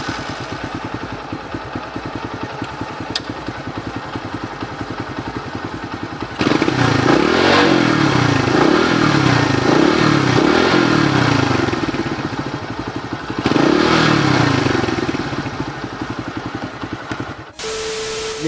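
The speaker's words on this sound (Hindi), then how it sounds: "एक बार मैं इसका आपको इंजन का साउंड सुना देता हूँ कि वो कैसा है" A Bajaj V motorcycle engine runs steadily at idle, then is revved hard in a rising and falling series of surges, settles back, and revs once more before cutting out near the end; close and loud with no talking.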